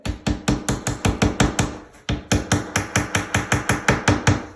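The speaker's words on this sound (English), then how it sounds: "the roofing nail goes right into this corner and then I can go ahead and nail that in" A hammer drives roofing nails into the corner of a custom shower niche, a fast steady run of ringing, loud blows, about twenty strikes with one brief pause midway, close and alone.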